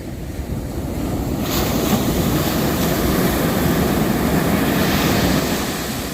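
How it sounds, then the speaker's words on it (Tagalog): Ocean surf roars and swells continuously, a loud rushing wash of breaking waves mixed with wind buffeting the microphone. "habol pa yung isa sa malaking alon na oh"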